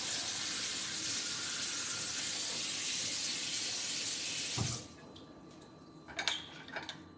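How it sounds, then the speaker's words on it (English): Hot tap water runs steadily into a kitchen sink for several seconds, a loud continuous rush that cuts off abruptly, followed by a few faint clinks and drips. "rinse it with like hot water"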